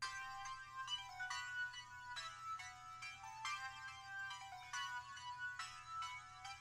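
Layered synth chords from a different preset form a bright, bell-like pattern of short repeated stabs over a low steady hum, fairly faint and heard alone.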